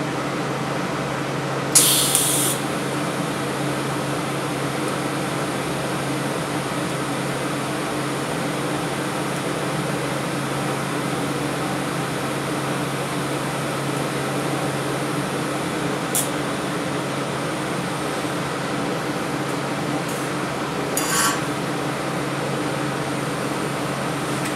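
TIG welding with a CK Worldwide 9 torch: a steady, even electric hum and hiss runs unbroken for a long stretch, with a couple of brief sharp clicks near the start and later, and no talk.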